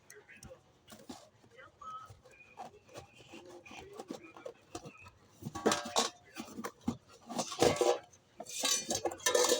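A newly unboxed cooking-oil strainer container being handled, with plasticky clinks and rattles that grow louder and busier in the second half, heard close while someone talks over it.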